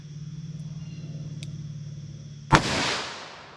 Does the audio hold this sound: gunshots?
yes